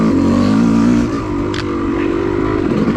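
A Yamaha YZ250 two-stroke dirt bike ridden hard on whooped OHV trails, its engine loud and close, revving high, then dipping briefly before climbing again, with no talk.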